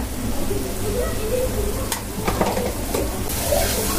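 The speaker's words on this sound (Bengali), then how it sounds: "এখন মশলাটা আমি ভালোভাবে কষাই নেব।" Turmeric, cumin and ground spices for beef khichuri sizzle in a hot pan while being stirred, a steady close frying hiss broken by a few scraping clicks of the spoon against the pan.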